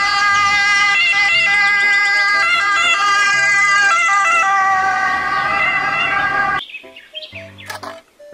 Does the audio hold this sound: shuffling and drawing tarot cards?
no